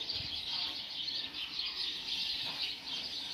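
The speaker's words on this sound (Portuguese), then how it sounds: "Olha os cantos dos pássaros aqui, gente, como tem passarinho aqui." Birds chirping and calling steadily amid a constant outdoor hiss, several birds overlapping at a moderate distance, with no talking.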